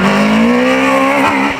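A Dallara Vauxhall F399 race car at a hill climb, its engine screaming loud and close with a rising, then shifting high-pitched whine.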